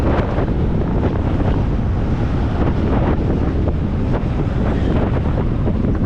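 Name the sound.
wind blowing into microphone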